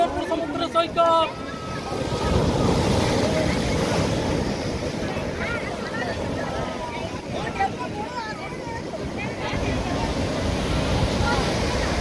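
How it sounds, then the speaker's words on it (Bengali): Waves break on the sand at Shankarpur sea beach near Digha, a steady roar of surf mixed with gusty wind buffeting the microphone, with voices faintly audible early on. "শঙ্করপুর সমুদ্র সৈকত।"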